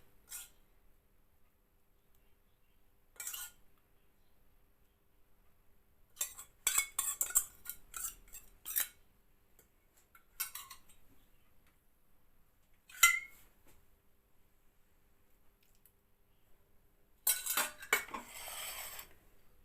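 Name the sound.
spooning leftover chermoula over kefta meatballs in a pan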